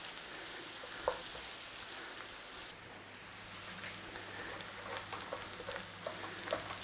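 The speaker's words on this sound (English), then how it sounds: "I'm going to give all that a stir in." Dried thyme being stirred into a sizzling pan, a steady soft frying hiss running throughout with a few faint clicks of a utensil against the pan.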